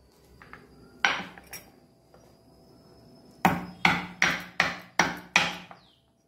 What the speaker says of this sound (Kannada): ಮೊದಲಿಗೆ ನಾನು ಇದನ್ನು ಸ್ವಲ್ಪ ಜಜ್ಜಿಕೊಳ್ತೇನೆ.